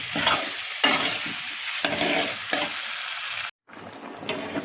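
Potato curry sizzles hard in a hot wok as water is added, a dense, steady hiss with a few stirring scrapes before a brief cut and a softer return.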